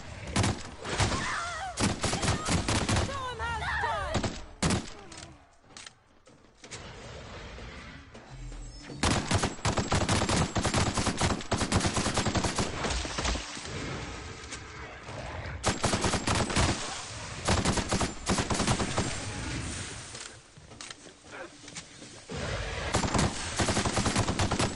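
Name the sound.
assault rifle gunfire in The Outer Worlds video game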